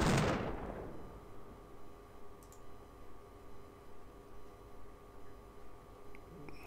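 An artillery piece fires once at the start in the strategy video game Imperialism, a sharp boom that decays over about a second, followed by a quiet, faintly pulsing game background.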